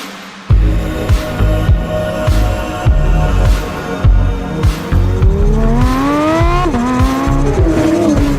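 A 2022 Porsche 911 GT3 driving hard, its engine revving up and down through the gears with loud, rising tones and sharp shifts, tires audible beneath the steady engine roar.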